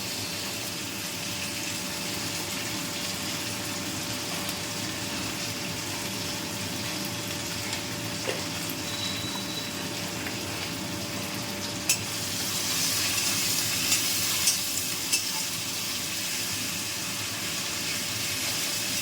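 Neem leaves fry in oil with a little salt for a traditional Bengali neem jhol, a steady close sizzle and crackle with occasional stirring scrapes and clinks, no speech.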